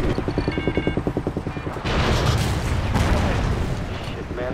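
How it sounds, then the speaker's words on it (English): In Call of Duty Ghosts, a rapid mechanical stutter of repeating pulses with faint radio-like tones gives way to a loud, sustained roaring whoosh as the missile launches and fades slightly. "Firing missile."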